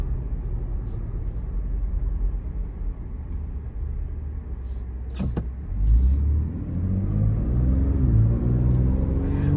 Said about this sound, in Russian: Фырчит, рычит, разгоняется.